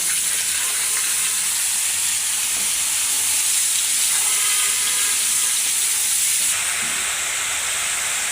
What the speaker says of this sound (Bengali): ধুন্দুল ভাজি করার জন্য এখানে আমি খালি পেঁয়াজটা ভেজে নিলাম। তো এখন ধুন্দুলগুলো দিয়ে দেবো।